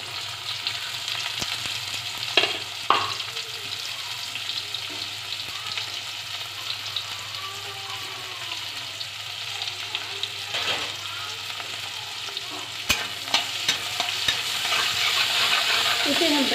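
Onions fry in a pan with a steady, close sizzle, broken by a few sharp scraping stirs near the start and later, with no talking over the hiss for about sixteen seconds.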